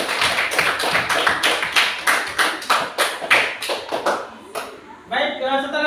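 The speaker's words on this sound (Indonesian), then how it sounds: "kita berikan tepuk tangan untuk Arif Anissa" A group in a classroom claps together for about five seconds, a dense run of sharp hand slaps that fades out before a voice starts speaking.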